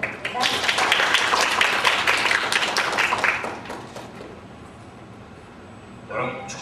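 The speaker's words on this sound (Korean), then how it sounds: "박수 부탁드립니다." An audience at a lecture event gives a short round of applause, moderately loud, lasting about three seconds before fading, followed by quieter room sound and a voice.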